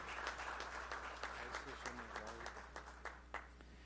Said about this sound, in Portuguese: que a gente receba com uma grande salva de palmas